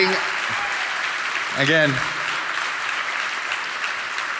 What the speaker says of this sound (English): the most sustained applause of the evening